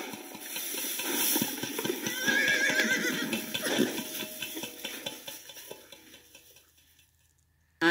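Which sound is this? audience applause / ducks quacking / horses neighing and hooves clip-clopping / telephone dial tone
horses neighing and hooves clip-clopping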